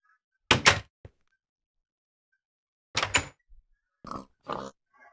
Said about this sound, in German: Irgendwo grunzt hier wieder eine Sau.